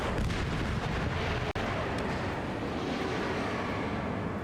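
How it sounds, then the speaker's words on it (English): A missile launching in the jet combat game Ace Combat 7, a dense, continuous roaring blast that fills the whole clip, with one brief sharp dropout midway. "Missile launched."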